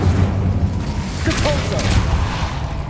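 An Incendio fire spell cast in the video game Hogwarts Legacy, a low rumbling whoosh with a brief flaring burst partway through under a continuous game background.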